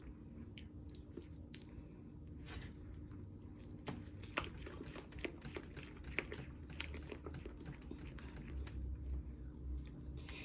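Soft, wet squelching and squishing as creamed corn casserole is stirred and mixed, a quiet continuous run of moist clicks and slaps with a few sharper ticks, no voices.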